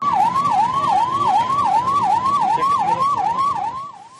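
A fire engine's siren wails on a busy city road near the central bus stand in Belagavi, a rapid repeating up-down whoop, loud and close, fading slightly at the very end with traffic rumbling underneath.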